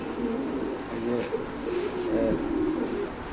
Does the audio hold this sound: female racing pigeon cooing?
yes